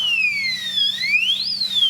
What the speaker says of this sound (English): The alarm goes off, as a matter of fact, if you do that.